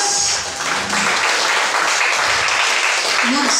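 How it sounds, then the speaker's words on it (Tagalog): A church congregation claps loudly during Sunday worship, dense sustained applause with voices calling out over it. "Huwag po natin tipirin ang palakpak sa Diyos."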